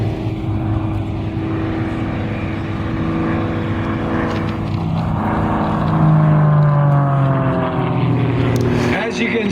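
A 360-horsepower propeller airplane climbs steeply at a World War II weekend airshow, its steady engine drone rising in pitch and growing louder toward the end, with a person talking over it throughout.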